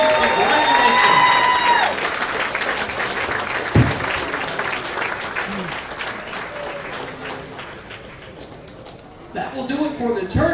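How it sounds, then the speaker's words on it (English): An audience at a women's professional bowling tournament stepladder final claps in a sustained round of applause that slowly fades, with a voice speaking over it. "How about one more round of applause?"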